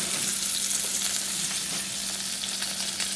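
Pork chops fry in a pan with a steady, close, hissing sizzle that never lets up, and no one speaks.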